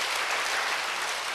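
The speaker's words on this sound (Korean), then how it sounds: "박수로 주님 경안 돌립니다" A church congregation at a Sunday worship service claps together in a dense, steady burst of applause that fills the room briefly, with no voices over it.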